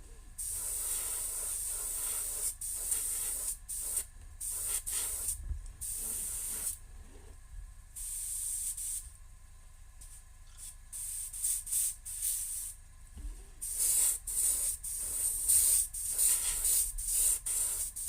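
An airbrush sprays paint across a fishing lure with a steady, close hiss that sputters and cuts out repeatedly, then returns in short, uneven bursts.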